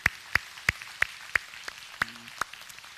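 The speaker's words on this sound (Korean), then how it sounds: "우리 하나님께 영광의 박수 올리겠습니다." At a Sunday morning church service, hands clap in a slow, steady rhythm, about eight distinct claps evenly spaced and fairly close in an otherwise quiet room.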